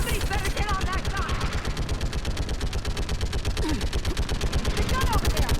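A mounted gun in the Mass Effect 3 video game fires loud, rapid bursts of gunfire that keep going the whole time, with voices shouting over the shots.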